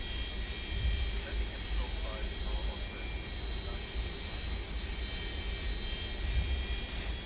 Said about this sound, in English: listen to those nice sounds of the whine of these old engines